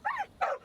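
A dog whimpers in the video game Genshin Impact, two short high whining cries close up with a brief start of a third, no talking.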